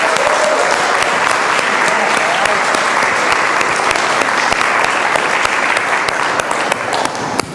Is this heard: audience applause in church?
yes